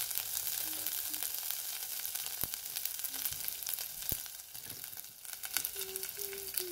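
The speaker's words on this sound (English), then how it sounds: "Then add 1 teaspoon mustard seeds and wait until they splutter. Then add 6 to 7 curry leaves." Mustard seeds and curry leaves sizzle in hot oil for a Maharashtrian whole masoor dal amti, a faint continuous hiss broken by a few sharp crackling pops, with no talking.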